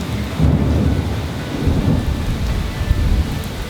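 Intense thunderstorm with heavy rain falling hard and constant, low thunder rumbles swelling in the background, loud and near, without any talking.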